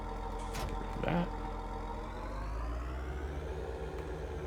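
Tractor engine in Farming Simulator 19 idling and running steadily, a continuous low rumble with a faint higher whine that rises slightly toward the end, moderately loud and heard alone.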